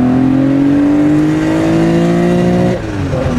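A 1972 Porsche 911 T with a fuel-injected 2.8-litre engine revs steadily toward its 7,800 rpm redline, its rising tone held loud and close before easing off near the end.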